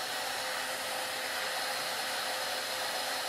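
A steady, loud rush of blown air from an electric shirt ironer pushing air through damp laundry, running continuously and evenly throughout with no talking.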